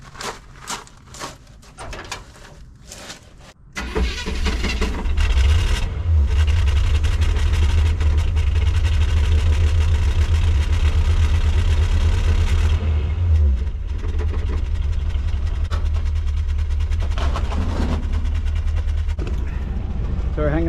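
A Chevrolet C10 pickup truck's engine starts after a few knocks and clanks, then roars loud and steady while it strains to drive off from underneath a lift, settling into a lower rumble near the end.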